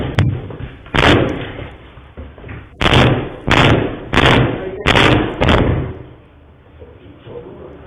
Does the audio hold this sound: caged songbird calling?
no